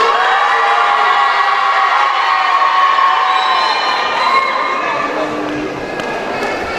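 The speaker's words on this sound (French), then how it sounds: "applaudissements pour Jensi" A live audience at a French talent contest cheers, whoops and shouts loudly as a contestant is called up, with children's shouts mixed into a dense, sustained crowd roar lasting throughout.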